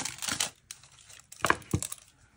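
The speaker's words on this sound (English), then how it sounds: "So I'm just going to kind of peel back this" Plastic packaging from a Dollar Tree craft storage item is peeled back in a few quick crinkling tears, close and loud, with short pauses between them.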